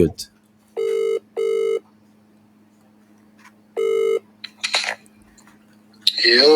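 An electronic phone ring sounds in a double burst, then once more after a pause, over a steady hum, with brief voices and clatter at the end, during a live podcast.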